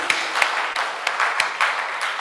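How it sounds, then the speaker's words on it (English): An audience applauds at an endowment lecture and Reformation Day celebration, giving a steady, moderately loud patter of hand claps with a few sharper individual claps standing out throughout, and no talk over it. "Can we give all these people a good applause once?"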